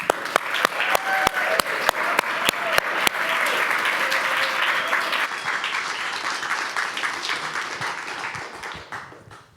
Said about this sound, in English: So let's give these students a round of applause as they make their way to the stage.